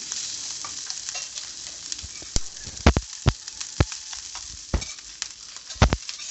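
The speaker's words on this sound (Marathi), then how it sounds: "आपण शिजून ठेवलेला राईस आपण त्यात टाकून छान असा परतून घ्यायचा आहे" Cooked rice is stir-fried in a pan with cumin for jeera rice, a soft sizzle punctuated by sharp, irregular clacks of a spatula against the pan, several loud knocks clustered near the end.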